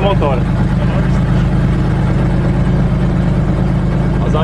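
Light aircraft engine running steadily just after starting on the first try, a loud continuous low drone with a brief voice at the start and end.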